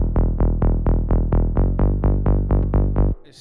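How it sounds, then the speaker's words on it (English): A pluck bass synth built from a super saw, shaped by filter cutoff automation, hits about a dozen loud, punchy notes in a steady rhythm for a progressive house track, each one decaying quickly, then stops abruptly. No talk. "And a pluck bass, which sounds like this."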